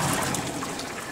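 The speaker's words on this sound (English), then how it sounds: "We just keep the water running." Water from a running hose pours steadily against a magnetic flood barrier outside a house front door, a continuous close splashing rush with no talk.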